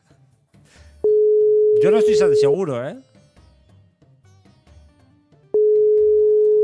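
An unanswered phone call gives long, steady electronic ring tones separated by a pause, loud and close, while someone speaks over the first tone.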